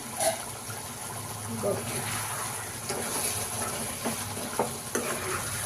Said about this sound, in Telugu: ఒకసారి కూర కలుపుకొని అయిందా లేదా చూసుకుందాం